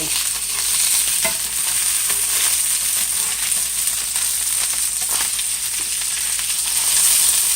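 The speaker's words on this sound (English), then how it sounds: "particular fish does have skin, so I'm gonna have to cook it a little bit longer. Cook through that skin and crisp it up." Skin-on fish fries in a pan, a loud, dense, continuous sizzle with faint scraping, steady throughout and without talk.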